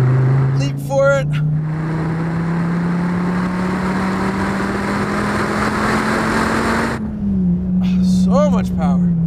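An American muscle supercar accelerating hard on a race track, its engine note climbing steadily in one long sustained pull before easing off, with a person talking briefly at the start and the end.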